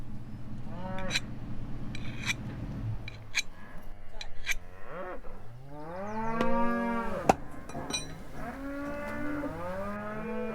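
Cattle moo repeatedly on a ranch, several long drawn-out lowing calls close by, one after another, over a low background rumble with brief voices mixed in.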